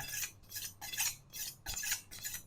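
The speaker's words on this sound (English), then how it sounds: "Same again. 6 or 7 times. Both sides of the steel. Both sides of the knife." A kitchen knife drawn repeatedly along a sharpening steel, alternating sides, giving about six bright metallic scraping strokes in a steady rhythm, close and clear with no talk.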